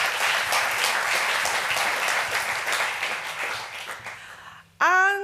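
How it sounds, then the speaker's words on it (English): Audience applause at a Dianne Abbott Foundation event, given for the Speaker of the House of Commons: steady, dense clapping from a crowd for nearly five seconds, cut off abruptly as a voice begins speaking. "Round of applause, Mr. Speaker."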